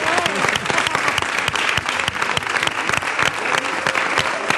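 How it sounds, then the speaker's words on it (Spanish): Lively applause from a carnival murga audience, dense crisp clapping with some sharp close-by hand claps standing out, sustained at full strength across the clip. "Sí, un aplauso."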